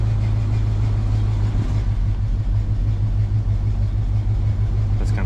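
A car engine idling with a steady low rumble and hum, close and constant throughout, while it pulls vacuum to switch valves over, with no talking.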